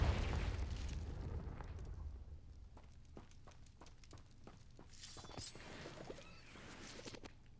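A Confringo blasting spell in Hogwarts Legacy erupts as a deep booming explosion that rumbles and fades, followed by a quick series of crackling pops and small bursts, all at fairly low level.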